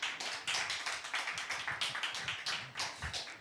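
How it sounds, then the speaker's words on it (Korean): A seminar audience claps to welcome the lecturer, a pastor, as he is introduced. The sharp, rapid claps come close and fairly loud, a steady patter lasting several seconds with no talking. "뜨거운 박수로 환영해 주시기 바랍니다."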